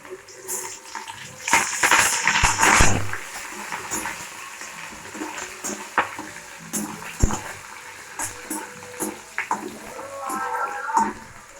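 Chopped onion drops into hot oil alongside already fried chili, with a loud hiss and crackle at first that settles into a steadier sizzle, plus occasional light scrapes and taps.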